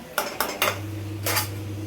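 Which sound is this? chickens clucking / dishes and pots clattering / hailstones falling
dishes and pots clattering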